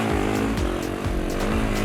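Motorcycle engine droning steadily at close range throughout a Le Touquet beach race, the rider holding back rather than going flat out, with the pitch rising and dipping slightly and no talk.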